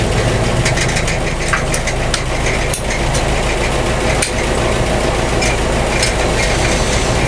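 A car engine idling steadily after a slow, hesitant start, a loud, close, continuous rumble with a faint rhythmic knock and vibration running throughout, no talking.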